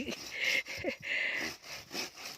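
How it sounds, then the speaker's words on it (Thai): A handsaw cuts through two-year-old bamboo stalks in a steady back-and-forth rhythm of rasping strokes, close by and moderately loud, with no one talking. "เลื่อยทุกต้นเลยนะคะ"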